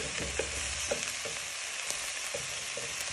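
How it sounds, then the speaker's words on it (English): Carrots and potatoes sizzle loudly in a pan with bacon, onions and leeks, a constant close frying hiss broken by several soft scraping stirs. "You want to give them a little bit of stir."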